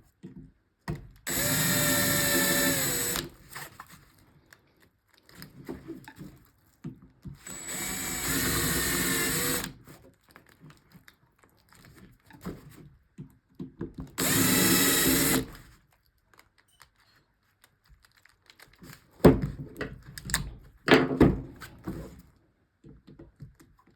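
A power drill whirs in three separate bursts of a couple of seconds each, close and loud, drilling on a Rans S6 light aircraft, with quieter handling clatter in between.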